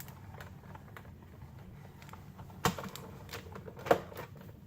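A Big Shot embossing machine is cranked by hand as cardstock passes through between two cutting plates, giving soft mechanical creaks and rolling clicks with two sharper clunks, close and fairly quiet.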